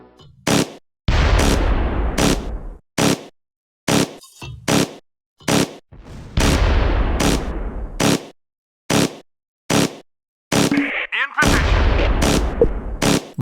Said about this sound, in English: The mortar shifts fire.